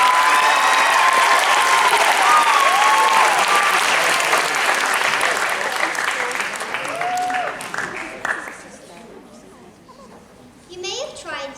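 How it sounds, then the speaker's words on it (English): An audience at a primary school lunchtime performance gives the young players a big round of loud, sustained applause with some cheering and children's voices. The clapping fades out after about eight seconds, leaving quieter chatter. "would you all join me in giving the POWIIS Primary Players a massive round of applause?"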